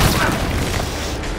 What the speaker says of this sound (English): where are all these missiles coming from?